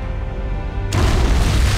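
Sudden loud boom of an antimatter charge going off aboard a starship in Halo: Combat Evolved, a deep rumbling blast that bursts in and sustains without letting up.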